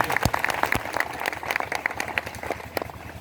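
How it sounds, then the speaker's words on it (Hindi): Applause from an audience gathered in a large tent at a Hindi-language public event, with sharp irregular claps spread through a steady clatter of moderate loudness. "आप एक बार दिल की गहराइयों से उनके लिए जोरदार तालियां बजाइए"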